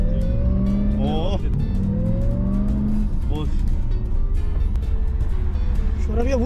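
Car engine revving loudly with rising and falling pitch sweeps and bursts of tire squeal, heard close and continuous while people talk and shout over it.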